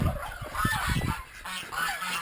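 Geese on an off-grid homestead let out a quick run of loud, nasal honks, several overlapping calls in a short burst at moderate distance.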